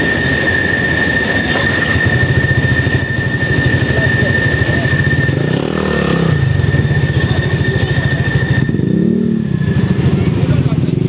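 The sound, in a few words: train arriving at a station in Manila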